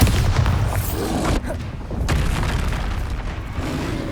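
Bombarda spell explosion in Hogwarts Legacy gameplay: a loud, broadband boom hits at the start, then a sharp burst around the middle and another near the end, all over a dense, continuous roar of game noise.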